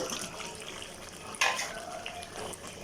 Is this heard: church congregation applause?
no